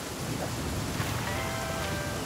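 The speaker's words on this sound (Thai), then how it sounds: "ฝนทำไมต้องตกตอนเช้านะ" Morning rain in a flooded wilderness within the game The Flame in the Flood, a steady dense hiss of falling water with faint tonal traces underneath, constant throughout.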